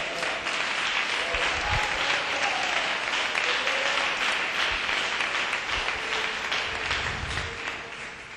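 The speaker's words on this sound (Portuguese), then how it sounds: "Dá uma salva de palmas para Jesus" Sustained applause from a church congregation fills the whole stretch, dense and steady clapping with a slight swell and fade toward the end, no speech over it.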